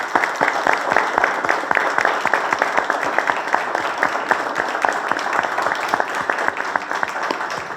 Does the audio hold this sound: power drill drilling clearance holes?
no